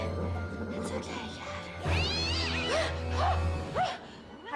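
A cat meows several times close by, with rising and falling cries, while people talk over it against a constant low hum.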